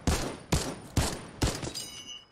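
Four loud, evenly spaced shots from an infantry rifle in a shooter video game, each a sharp broadband crack with a short decaying tail, followed by a faint tonal ring at the end.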